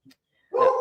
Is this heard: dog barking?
yes